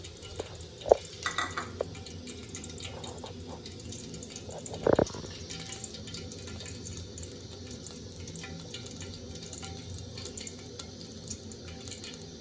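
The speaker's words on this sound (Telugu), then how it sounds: "ఒక కప్ ఆయిల్ తీసుకుందాం." Cooking oil poured from a cup into a pan for non-vegetarian chicken curry, a soft continuous trickle with a couple of brief clinks, with a faint voice in the background.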